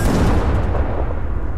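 A tank destroyer's cannon fires in Arma 3, in a Warhammer 40K PvP battle. It comes as a loud, dense blast with a long rumbling low tail that holds for the whole moment, with no voices.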